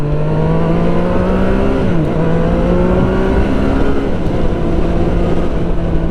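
Aprilia Tuono V4 Factory 1100 motorcycle ridden on the road, a loud close engine roar holding steady pitch with a quick drop and shift partway through, no talking.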